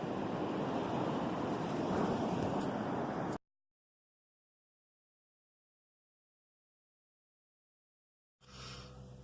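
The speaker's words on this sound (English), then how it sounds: "I'm going to listen to the ocean for a few more minutes." Waves wash in with wind rumble for a few seconds, then the sound cuts to complete silence before faint surf returns at the end.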